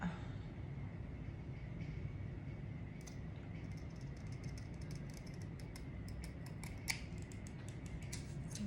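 Scissors trimming the edge of junk journal folio paper, several quick close snips in a row from about the three-second mark, clipping lightly over a steady low background hum.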